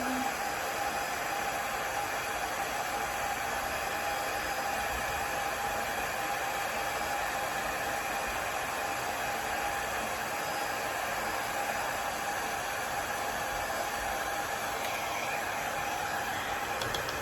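A hair dryer blows steadily on wet watercolor paint, a constant close, loud hiss and whir with no pauses across the whole stretch.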